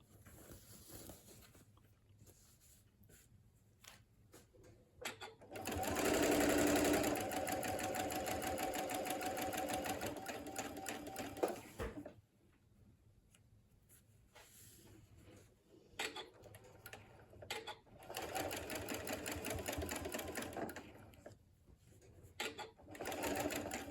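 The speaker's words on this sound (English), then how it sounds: "I like to sew really close to where those seams are met up" A sewing machine stitches pinwheel quilt block seams together in two sustained runs, the first loud and steady, the second after a quieter pause with light handling noises between.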